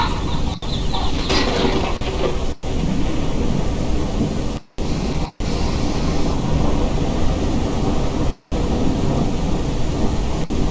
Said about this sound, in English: It's getting very stormy.